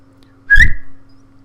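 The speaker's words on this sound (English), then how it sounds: "Whistle again." A single person's whistle calling a dog, one clear rising-then-steady tone lasting about half a second, loud and close, over a faint steady hum.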